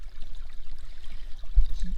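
Gentle, continuous trickle of creek water running through a 6x24 inch Dream Mat gold sluice, faint and low throughout with a slightly stronger gurgle near the end.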